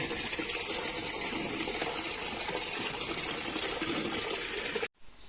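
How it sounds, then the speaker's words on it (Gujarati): Water runs steadily on a farm, a continuous close rushing flow at even loudness that cuts off abruptly near the end. "આને કહેવાય પાણી।"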